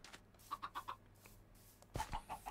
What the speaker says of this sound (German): Diese Hühner hier, das ist unglaublich.